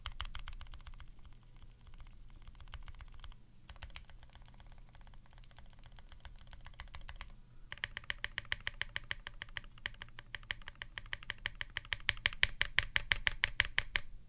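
Keys on a Piggy 60 keyboard are mashed hard, giving a hollow clacking: a steady, busy patter of presses that turns into louder, faster, more sharply separated strikes in the second half.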